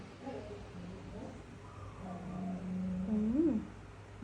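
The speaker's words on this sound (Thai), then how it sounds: "ยินเสียงแมวแมวออกไป ข้างนอก" A cat meows at home, soft at first and then rising into one clearer drawn-out meow near the end, over low background murmur.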